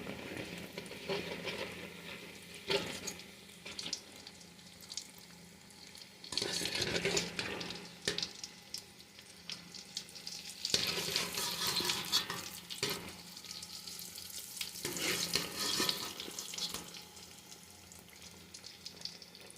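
Chunks of elephant foot yam fry in oil in a pan over low heat, giving a continuous soft sizzle with periodic stirring and scraping surges, close up and without speech.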